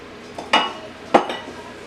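A spoon stirs apple filling with sugar and seasonings in a pot for caramel apple empanadas, making two distinct metallic scrapes and clinks against the pot, close and clear.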